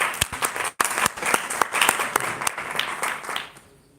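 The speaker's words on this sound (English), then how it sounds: "Please have a good round of applause." An audience applauding at a college presentation, a dense burst of clapping that swells and then thins out over about four seconds, with a brief break near the start.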